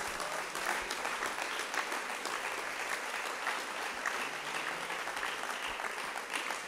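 Church congregation applauding, a dense steady wash of clapping hands from a crowd, moderately distant and sustained without a break.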